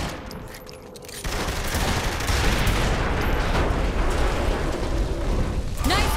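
Video game gunfire erupts into a dense, sustained roar of overlapping shots and rumbling blasts after a quieter start, loud and continuous, with a faint rising whine near the end.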